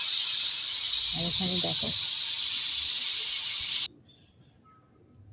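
A pressure cooker vents a loud, steady hiss of steam while kadaknath (black) chicken cooks, with a short stretch of speech over it before the hiss cuts off abruptly, leaving near silence.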